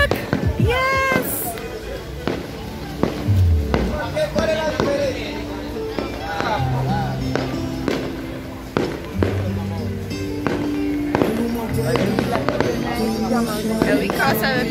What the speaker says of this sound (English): Oh, they have fireworks.